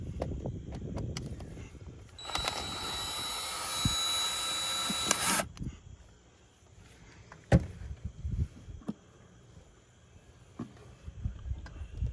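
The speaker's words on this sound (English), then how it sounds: "we are just drilling out the screw" A power drill whines loudly for a few seconds in a short burst, drilling out a screw on an ATV, then stops, with faint handling clatter and rustling before and after.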